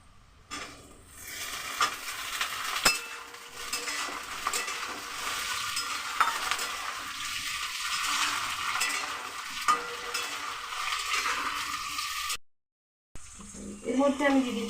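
Cauliflower florets fry and are stirred in a pan for a Bengali mixed vegetable dish, giving a steady sizzle with scraping utensil strokes throughout and a brief silent break near the end.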